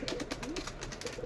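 Pigeons in a pigeon loft give soft, low coos, repeated several times over a brief stretch with a steady murmur of birds in the background.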